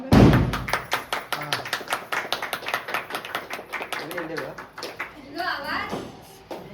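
Hands clap at a Konkan barsa, a naming ceremony for a baby girl: a steady run of close, sharp claps that thins out after a few seconds while adult voices and children's chatter carry on around it.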